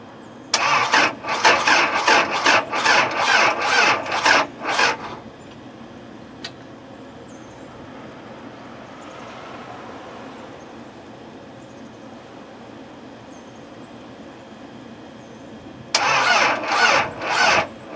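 A cold Isuzu 4BD1T diesel in a Defender 130 pickup cranks slowly at -14°C. A loud, rhythmic burst of starter cranking lasts about four seconds, then a long quiet pause, then another cranking burst.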